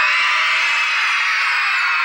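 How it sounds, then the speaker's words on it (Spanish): Loud, continuous shouting from a crowd of children in a studio audience at a Chilean children's TV show, a dense sustained roar with no pauses, close and filling the space. "después de este tremendo problema que me creó Epidemia con el grito de ustedes"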